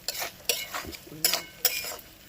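Papad curry being stirred and sautéed in a pan, with a few distinct scrapes and clinks of a spoon against metal in an uneven rhythm over a faint background, close and moderately loud.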